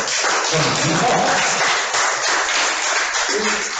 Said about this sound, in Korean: 죄송하지만 박수 한 번씩만 쳐주시겠습니다.